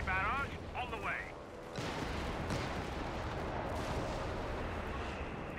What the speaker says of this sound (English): Artillery barrage on the way.